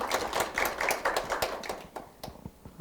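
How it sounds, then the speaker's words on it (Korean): Applause from the audience at a youth work-life balance policy forum in Daejeon, a quiet patter of clapping hands that thins out and fades toward the end. "좋은 말씀해 주신 우리 박운수 공동운영위원장님께 다시 한번 큰 박수 부탁드립니다."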